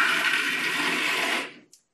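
Roasted peanuts whirl inside a Magimix 4200XL food processor, a loud, steady grinding roar that runs about a second and a half before winding down abruptly, followed by a short faint click.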